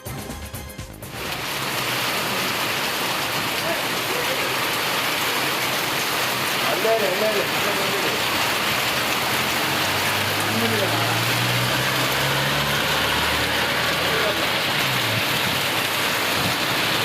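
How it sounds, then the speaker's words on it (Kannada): Steady drizzle falls around Anekal on the outskirts of Bengaluru, an even, continuous hiss of rain at constant loudness, with faint low traffic rumble passing underneath. "ಬೆಂಗಳೂರು ಹೊರವಲಯದ ಆನೇಕಲ್ನಲ್ಲಿ ಜಿಟಿಜಿಟಿ ಮಳೆಯಾಗಿದೆ."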